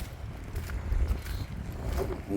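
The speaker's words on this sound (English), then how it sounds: "I'm sorry about the wind noise." Wind buffeting a microphone outdoors beside an Audi A4, a faint, uneven low rumble with soft gusting swells and no talk.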